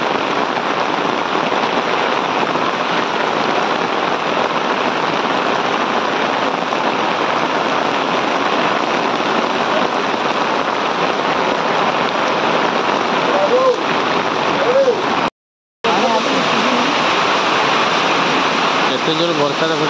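Heavy rain pours loud and steady throughout, a dense unbroken hiss of rainfall close by, cut out for a moment near the end.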